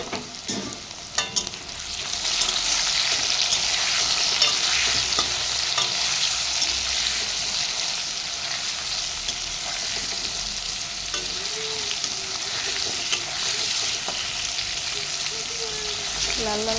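Potatoes and taro frying in a pan with turmeric and salt give a steady, loud sizzle close up, with a few scrapes and taps of stirring near the start.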